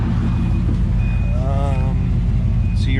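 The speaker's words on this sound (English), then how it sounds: "A little lifter ticking on the left side there." A 1951 Chevy panel truck engine idling with a light hydraulic lifter tick on one side, a steady loud running drone close by, with someone talking over it.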